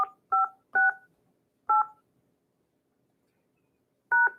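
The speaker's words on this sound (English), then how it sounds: "Please enter your access code followed by the pound or hash sign." Telephone keypad DTMF tones punch in a conference access code: a quick run of four beeps, a pause, one more, then a final beep after a longer gap, each crisp and isolated against silence.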